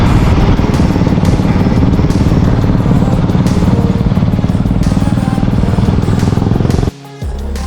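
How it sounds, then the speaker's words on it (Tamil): A Royal Enfield Thunderbird 350 motorcycle's single-cylinder engine thumps steadily and loudly up close, the rhythmic beat running continuously before cutting off abruptly near the end. "தண்டர்பேர்ட் 350யோட சவுண்ட் கேட்டிருப்பீங்க"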